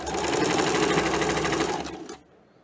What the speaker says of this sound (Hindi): इसको क्रॉस करके सिलाई ख़त्म करें, जिससे कि ये मज़बूत बना रहे